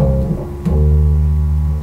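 Funk bass guitar riff played quickly, with sustained low notes ringing out after a brief run of plucked attacks, alone and clear.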